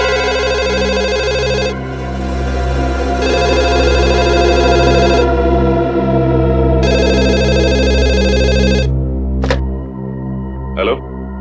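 A telephone rings in repeated electronic bursts over a steady low hum, with two brief sharp clicks near the end.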